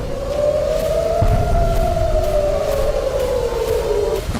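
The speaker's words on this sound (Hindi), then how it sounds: "इजरायली शहरों में खतरे के सायरन बजते ही" A wailing warning siren in an Israeli city rises and falls in slow sweeping tones, steady and moderately loud, with faint background rumble.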